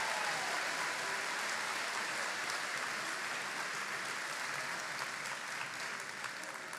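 Sustained applause from a crowd at a graduation ceremony, steady clapping throughout with no pauses, fairly distant and even in loudness.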